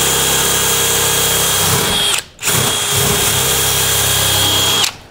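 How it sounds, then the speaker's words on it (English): A power drill bores pilot holes into a steel roof panel on a 1960-66 Chevy or GMC truck, producing a loud, sustained whine that cuts out briefly midway, starts again, and stops near the end. "So just get yourself some pilot holes going."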